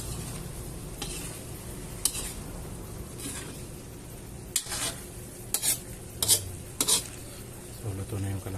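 Pinakbet vegetables, okra and bitter gourd among them, are stirred in a pan over low heat, with scattered scraping and clinking strokes and a faint sizzle underneath, at a close, moderate level.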